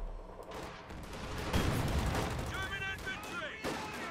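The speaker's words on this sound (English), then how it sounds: "And even fake artillery barrages." Artillery barrage in the Company of Heroes 2 video game, dense booms and gunfire rumbling continuously with sharper blasts, while a commentator talks over the battle.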